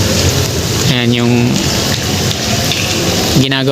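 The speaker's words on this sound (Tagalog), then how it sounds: "So dahil umuulan, buti nakapayong tayo." Steady rain hissing over a construction site where a bridge is being demolished for a viaduct, a continuous loud wash of falling water close by with someone talking intermittently over it.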